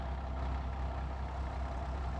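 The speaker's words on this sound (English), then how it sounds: "the tractor that I was going to mow with is this one" Tractor engine in Farming Simulator 2017, a steady low idling rumble that drones on evenly and close, with no other sounds over it.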